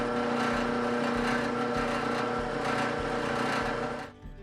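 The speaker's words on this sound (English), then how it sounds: "I'm trying to drill the hole in the end of these bolts here for my R-clips" A power drill bores a hole through the end of a bolt for an R-clip, a steady high whine running unbroken for about four seconds before winding down abruptly.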